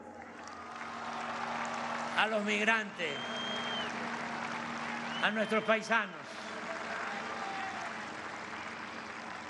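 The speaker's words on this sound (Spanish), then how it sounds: "Un aplauso" A large crowd at a political rally for Mexican president AMLO breaks into two short bursts of applause and cheering, loud and close, between stretches of an amplified speech.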